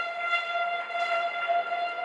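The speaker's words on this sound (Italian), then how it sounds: "duplice fischio, suona la sirena" A half-time siren at an indoor women's Serie A futsal match sounds as a steady, sustained horn-like tone, loud and unbroken for about two seconds with faint arena noise beneath.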